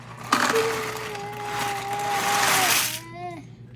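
Dry macaroni is poured into a pot of nearly boiling water, giving a short splashing rush and bubbling hiss that fades after a few seconds, with a faint tonal whistle running underneath.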